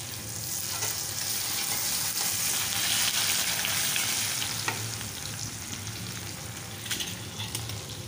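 Chopped onion sizzles steadily in hot oil as a tempering for a fish curry with flat beans and potatoes, a close, continuous crackling fry with occasional louder pops and no voices.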